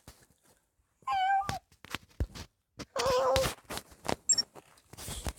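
A person imitates a cat, giving two drawn-out nasal meows about two seconds apart, with soft clicks and breathy noises around them indoors.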